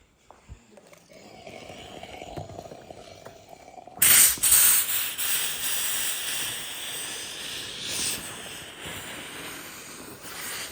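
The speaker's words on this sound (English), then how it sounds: "I'm gonna hit it one more time with steam, and it should lay down pretty good." A steam iron pressed onto Velcro fabric gives a low hum, then a sudden loud hissing gush of steam that holds steady as a broad close rush for several seconds.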